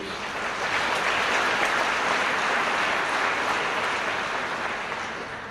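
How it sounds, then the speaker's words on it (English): Sustained audience applause for bank CEOs at a banking conference keynote, a broad even wash of many hands clapping that swells, holds steady, then tapers slightly. "Let's give a round of applause to the CEOs."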